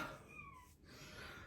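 A kitten shut inside a bedroom lets out a faint, muffled meow, a single thin rising cry heard at a distance behind a background hiss.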